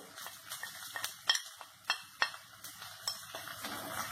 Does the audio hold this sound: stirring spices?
yes